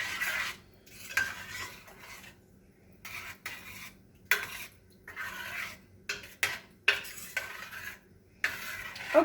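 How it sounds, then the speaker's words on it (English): A spoon stirring homemade spaghetti sauce with Italian seasoning in a pot, giving soft scraping strokes and light metallic clinks in an uneven rhythm, fairly faint and close. "Let me kind of stir this around."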